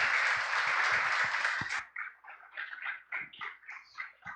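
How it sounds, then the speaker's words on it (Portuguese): A dense burst of clapping from a church congregation fills the first second and a half, then breaks off into scattered, uneven individual claps. "Aplauda o Senhor, porque Ele é digno."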